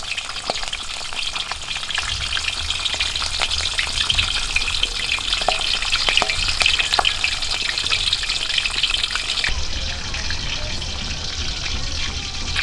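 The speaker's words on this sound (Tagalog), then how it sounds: "lagayin natin ito. I-prito natin mga ka-studio." Steady, crackling sizzle of tilapia frying in hot oil over low heat outdoors, continuous and close, with occasional pops and a brief clink partway through.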